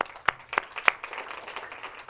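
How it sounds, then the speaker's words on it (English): Sparse claps from a church congregation, a few sharp distinct hand claps in the first second followed by fainter scattered clapping, fairly quiet. "Everybody clap."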